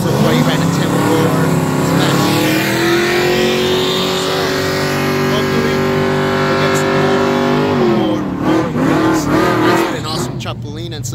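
A Fox body Mustang drag racing at a track night launches and accelerates hard, a loud, close engine roar climbing through rising revs for about eight seconds before easing off and fading, with voices over the end.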